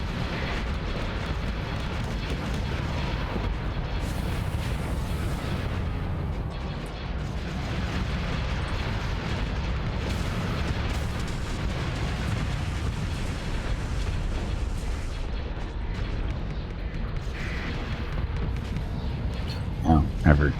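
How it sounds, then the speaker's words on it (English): Explosions and booming weapon fire from space combat in the video game Starsector as TIE defender starfighters are destroyed, a dense continuous rumble of blasts throughout, with a few louder bursts near the end. "my TIE defenders got destroyed"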